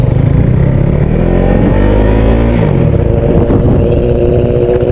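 Yamaha R6 superbike engine revved hard up close, a loud continuous roar with pitch sweeping up and down through several blips, no voices.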